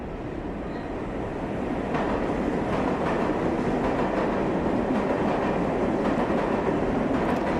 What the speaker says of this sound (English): I wanted to have some kind of subway train.